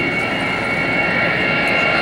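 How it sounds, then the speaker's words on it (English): A Lockheed C-5 cargo plane roars at full power during an airshow flyby, a loud, close, sustained jet-engine drone with a steady whine and no pauses. "as he adds full power and climbs away, he'll retract the landing gear"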